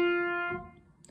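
A single piano note played without the sustain pedal strikes clearly, then fades and is cut off within about half a second, followed by faint quiet.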